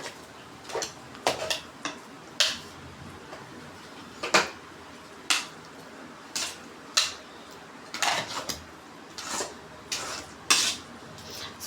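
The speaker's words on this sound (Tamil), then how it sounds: "நம்ம தாளிப்பு ரெடி பண்ணோம் இல்லையா, அதை வந்து இந்த சாதத்தில் போட்டு நல்லா மிக்ஸ் பண்ணிக்கலாம்." Tempering mixed into cooked rice for curd rice, with irregular clinks and taps of a metal spoon against a vessel, close and fairly quiet, with no talk.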